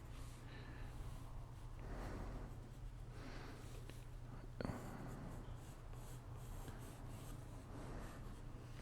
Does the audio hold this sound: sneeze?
no